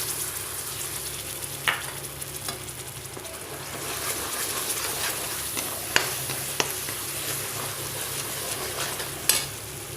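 Ground paste fries in hot oil with asafoetida in a pan, giving a steady close sizzle broken by occasional sharp scrapes and clicks of a spoon stirring.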